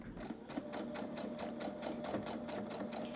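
A sewing machine stitches a quarter-inch seam along the edge of a fabric strip, producing a quick, steady mechanical chatter of regular needle strokes that sounds close and even throughout.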